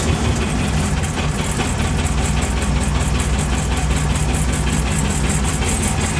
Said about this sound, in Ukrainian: Завели ми зараз тракторця